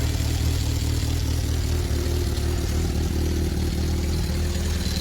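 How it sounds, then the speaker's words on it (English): A 1976 Honda CB550 motorcycle engine runs steadily near the listener, a continuous loud mechanical drone with a rough, throbbing low end and no talking, the bike making a concerning noise. "the bike started making a really concerning noise"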